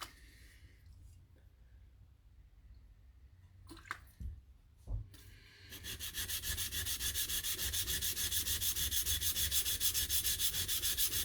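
Knife blade being pushed along its shinogi line on a sharpening stone, starting with faint scraping and a couple of knocks, then rhythmic, steady grinding strokes that grow louder and continue evenly to the end.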